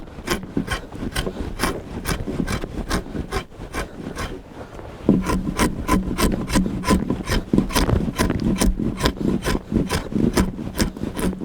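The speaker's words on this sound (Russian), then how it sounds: "маленько другой конфигурации скобель у нас. И уже им заходим еще глубже" A drawknife scrapes a frozen Siberian cedar log in steady, repeated rasping strokes, each a short crisp pull, growing slightly louder and brighter partway through.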